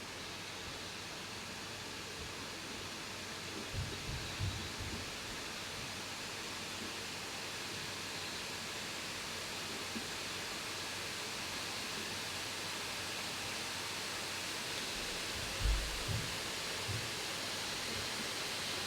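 Cooling fans of a Lenovo Legion 9i laptop give a steady, broad airy whoosh that holds at a constant level, with a few faint low thumps and handling bumps along the way.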